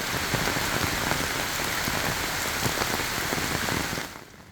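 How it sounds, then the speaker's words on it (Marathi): Heavy monsoon rain pours down in the Khopoli, Pen and Roha area of north Raigad, a dense, loud, steady hiss of drops on surfaces that cuts off abruptly at the end. "उत्तर रायगडमधील खोपोली, पेण, रोहा परिसरामध्ये जोरदार पाऊस कोसळतोय"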